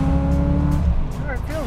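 The engine of a 1974 Corvette coupe revs hard and then drops, a deep throaty roar that holds at close range before easing back, while a voice briefly cuts in over it.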